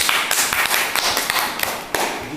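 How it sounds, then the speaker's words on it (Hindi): A room of seminar attendees clapping together in a brisk, fairly close burst, the claps running unevenly with a few sharper individual hits. "उसके लिए जोरदार ताली होनी चाहिए।"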